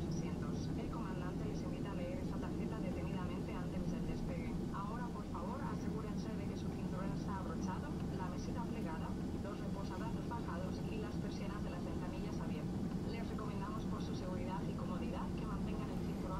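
Ryanair Boeing 737-800 engines spooling up in a flight simulator game, a steady broadband roar with faint higher whines that holds throughout, under occasional talk.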